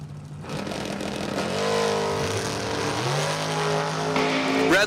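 A Chevrolet Camaro from Percy, PA runs at Numidia Dragway during a drag racing final, its engine revving and climbing in pitch through gear changes, loud and close, with faint announcer talk underneath.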